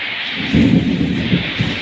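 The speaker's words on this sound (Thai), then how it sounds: "ฝนตกครับผม" Steady rain pours down outside a house in rural Thailand, with low, rolling rumbles of thunder building under the broad hiss of falling water.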